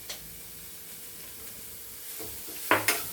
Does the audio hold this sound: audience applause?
no